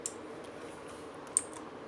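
Keys on an ABKO Hacker K2000 mechanical keyboard being pressed, giving faint, sparse clicks close up against a quiet, steady background hiss, with two sharper clicks standing out.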